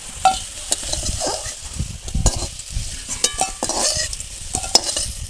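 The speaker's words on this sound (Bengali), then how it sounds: "বেগুনগুলো ভালো করে ভাজা হয়ে গেছে এবার তুলে নিচ্ছি" Eggplant pieces frying in oil give a steady close sizzle, with a utensil stirring and scraping in irregular bursts throughout and no talk.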